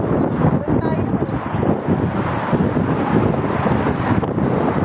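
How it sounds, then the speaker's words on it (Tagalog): Strong gusty wind buffets the microphone in loud, roaring rushes throughout, with a voice faintly mixed in. "Ang lakas ng hangin, guys."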